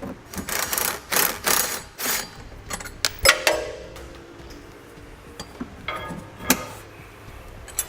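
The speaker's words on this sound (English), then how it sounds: "we're going to take out this bolt and that bolt" Bolts come out of the passenger side of a 2017 Toyota Highlander during a Curt trailer hitch receiver install, with bursts of rapid ratcheting and clicking, metallic clanks and tool knocks, close and fairly loud.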